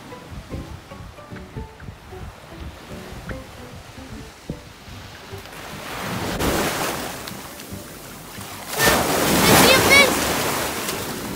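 Ocean waves breaking on a beach, starting as faint rustle and wind under a voice, then swelling into two loud surging crashes of surf with strong wind noise toward the end.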